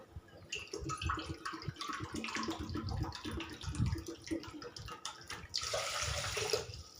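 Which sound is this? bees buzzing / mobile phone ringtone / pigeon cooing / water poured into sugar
water poured into sugar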